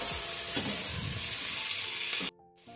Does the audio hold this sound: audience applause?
no